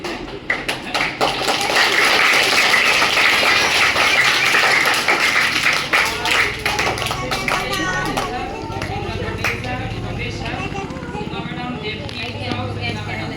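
An audience claps along at an outdoor tree-planting event, steady rhythmic hand claps mixed with voices. The clapping is densest early, then thins beneath ongoing singing or talk.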